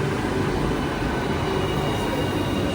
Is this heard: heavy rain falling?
no